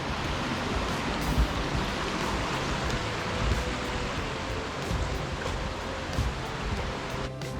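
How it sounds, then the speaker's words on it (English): Steady broadband rushing water of a creek on the Appalachian Trail in New Jersey, flowing nearby, continuous and fairly loud with no clear pauses, during steady rain. "Nice hearing the water running."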